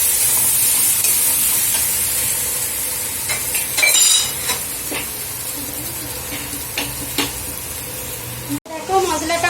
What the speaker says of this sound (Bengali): সেই মশলাটাকে একটু ভাজবো।